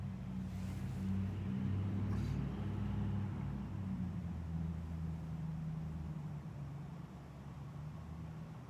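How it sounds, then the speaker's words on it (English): Steady low engine rumble of a car idling and pulling away, a continuous drone that eases slightly toward the end. "There's a car starting right as the white car turns."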